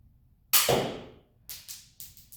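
A plastic Nerf 1911 pistol fires foam darts at a piece of cardboard at point blank range. A sharp snap comes first, then three quicker, lighter pops, all close and fairly loud, with no speech.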